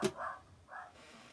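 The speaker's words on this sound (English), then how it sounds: "I may have cut out that barking noise" A dog gives two short, muffled barks, fairly close, with quiet between them.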